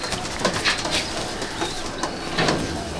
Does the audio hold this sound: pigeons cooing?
yes